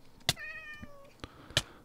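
A cat in the survival video game PeterCraft Survival gives a drawn-out, plaintive meow between sharp clicks, close and alone.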